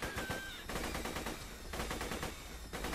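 Rapid, continuous gunfire in Borderlands 2, dense automatic bursts hammering away loudly with only brief pauses between strings of shots.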